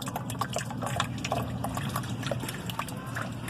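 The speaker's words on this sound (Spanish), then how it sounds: "Toda la porquería que le está escurriendo, todo lo que le removió el bicarbonato a la batería" Dirty liquid loosened by baking soda drips and trickles off a car battery being cleaned, a soft, continuous patter of irregular drops and small splashes over a low background hum.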